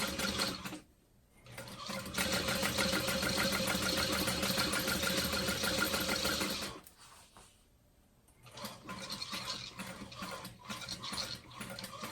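A sewing machine stitches slowly around the edge of a handbag, running in a steady whirring burst, pausing briefly, then resuming in shorter, uneven runs as the work is lifted and readjusted.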